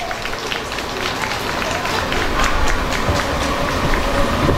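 A church congregation applauds, with dense, steady clapping that sustains loud and close throughout as a crowd sound.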